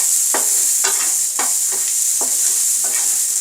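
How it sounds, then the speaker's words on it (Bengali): Food sizzles loudly in a pan while being stirred and fried, a constant hiss punctuated by about six scraping strokes at a slow, fairly even pace, close up without voices. "এটাকে ভালো করে কষিয়ে একদম ভাজা ভাজা করব।"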